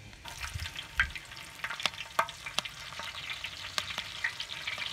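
Fenugreek seeds and green chilli fry in sesame oil, a quiet close sizzle with scattered sharp pops and crackles and occasional stirring scrapes, no talking.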